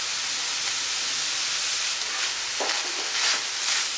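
Drained ground beef with cumin being stirred in a pan: a steady sizzling hiss runs throughout, with a few louder scraping stirs near the end, close and alone without talk.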